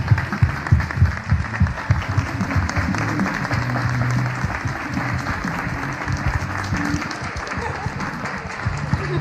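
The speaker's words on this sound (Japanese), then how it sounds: "西浦、え西村ペアにも大きな拍手をお願いいたします" Sustained applause fills the hall for a padel pair after the women's final of the 2019 All Japan Padel Championship, dense and steady throughout, with an announcer's voice running over it.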